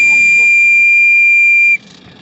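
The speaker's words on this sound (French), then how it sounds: "Ça, c'est du sifflet." A loud, steady steam whistle on a radio-controlled model steam trawler blows a sustained high tone for nearly two seconds, then cuts off, leaving faint background murmur.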